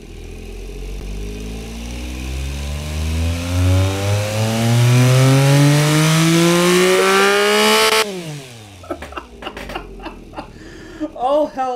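Virtual luxury SUV engine in the Automation and BeamNG simulator revving steadily higher for about eight seconds with rising harmonic whine, then dropping off abruptly into short blips and idle, with a voice talking over it.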